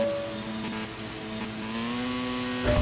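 F1 race cars launching off the grid at the Monaco Grand Prix in F1 Mobile Racing, a steady whining engine drone with tones climbing in pitch as the pack accelerates, ending in a louder low rumble.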